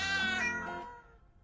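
A single drawn-out cat meow from a video game, bright and clear, rising then fading away over about a second.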